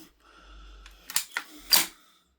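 A few sharp mechanical clacks in quick succession, the metallic bolt of a GHK AUG gas blowback airsoft rifle snapping forward, close and distinct after a faint rattle.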